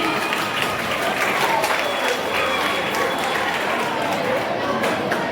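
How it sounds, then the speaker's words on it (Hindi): Students applaud loudly for guests at a school farewell party, a steady, dense wash of clapping from a large crowd that holds at an even level throughout, with some chatter mixed in. "बच्चों एक बार जोरदार ताली हमारे अतिथियों के लिए"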